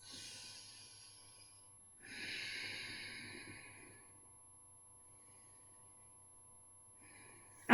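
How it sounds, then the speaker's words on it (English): Slow, deep yoga breaths taken while holding a forward fold, heard as two soft breathy exhalations close to the mic with a quiet pause between them. "3 big breaths."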